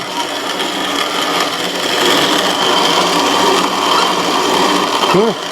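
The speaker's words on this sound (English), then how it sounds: "So now we're going to make milo flour." A grain mill grinds stored milo (sorghum) into flour with a loud, steady mechanical whir and rasp that hardly changes, and a brief voice is heard near the end.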